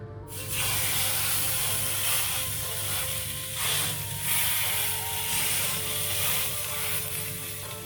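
A sea bass fillet sizzles loudly in a hot oiled pan, a steady dense hiss that starts abruptly as the fish goes in and holds throughout with slight swells, close and alone.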